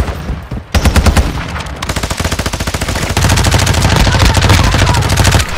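Rapid automatic gunfire from the Call of Duty Warzone DMZ video game rattles loudly and close, with a single shot first and then sustained bursts of fire.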